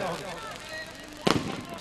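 Firecrackers go off at the closing ceremony of a kabaddi tournament in Nakodar, one sharp crackling burst late in the moment above a steady outdoor crowd murmur.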